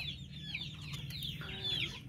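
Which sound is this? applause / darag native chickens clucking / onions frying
darag native chickens clucking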